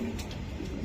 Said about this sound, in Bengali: এটা একটা নর কবুতর, আমি দেখাই দেই